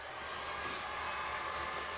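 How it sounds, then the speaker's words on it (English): A hair dryer blows steadily over poured silver resin on a sink strainer, a continuous close, loud airy whoosh with an even hum and no talk. "I'm just going to blow out the silver a little bit"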